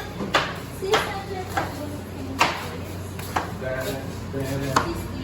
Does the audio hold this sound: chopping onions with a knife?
yes